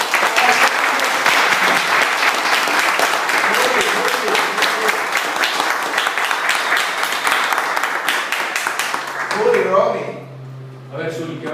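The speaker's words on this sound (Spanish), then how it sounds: "Un aplauso para todos." Audience at a university administrative farewell event in Pereira applauding loudly in a dense, sustained burst of clapping that fades out near the end as a voice begins speaking.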